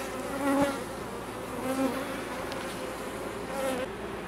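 Honeybees buzzing around an open hive frame during a beekeeping inspection: a close, dense, continuous hum with individual bees droning louder as they pass near.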